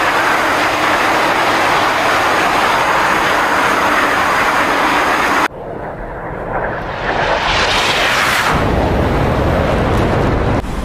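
A loud, steady roar of a jet engine in flight in the DCS combat flight game, one constant broadband rush that breaks off and shifts to a different rumbling tone partway through.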